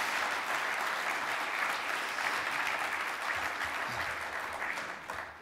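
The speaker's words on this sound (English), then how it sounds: "You can applaud." Audience applauding at a 2011 NASCIO state CIO awards ceremony, a steady dense clapping that holds for several seconds and eases slightly at the end, with no talk over it.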